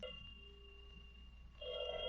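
An old-time telephone bell rings in a classic radio drama, a steady tonal ring that sounds at the start and again more strongly near the end, with a quieter stretch between and no voices over it.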